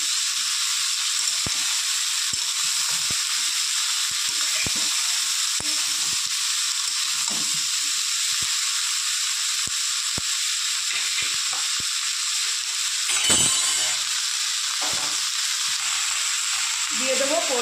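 Potato, pointed gourd and radish fry in a pan, giving a steady, bright sizzle throughout while a spatula stirs them with scattered scraping clicks; a voice is briefly audible.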